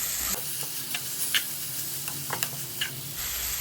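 Grated coconut and jaggery being stirred in a hot pan, a soft steady sizzle with scraping spoon strokes, close and alone with no talk.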